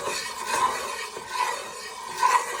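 A wooden spoon stirs and scrapes sunflower oil across a pan in rhythmic strokes, a soft rasping swish repeating about three times, close by, with no talk.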